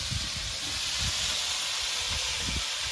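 Chopped tomato goes into a frying pan of potatoes cooked with salt and turmeric, giving a steady broad hiss with low thumps of stirring and no talk.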